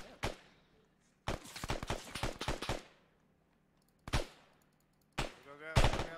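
Gunfire in the Arma 3 video game: sharp single shots and a dense volley of rapid cracks, followed by further isolated close reports, fairly loud against a quiet background.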